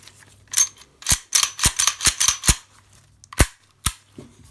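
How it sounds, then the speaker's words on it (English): A Smith & Wesson 5906 pistol being reassembled, its slide catch pushed into place: a run of sharp, close metallic clicks and snaps in quick uneven bursts, with a couple of isolated clicks afterward and no talking. "then you insert your slide catch, like so."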